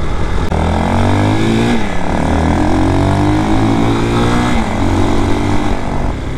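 A Bashan Brozz 250 dual-sport motorcycle engine running smoothly with its counterbalance, a loud, steady drone with gently rising and falling pitch as it is ridden.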